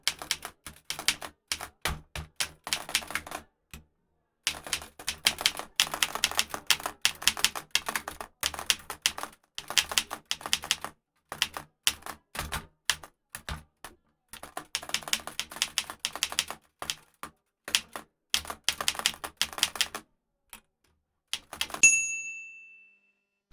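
Someone types a prompt on a computer keyboard, producing close, rapid bursts of clicky keystrokes separated by short pauses and ending in a brief chime, with no talking.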